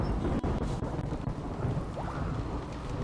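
Steady rain and rumbling thunder in the game RimWorld, a continuous stormy wash with low booming texture throughout, no voices.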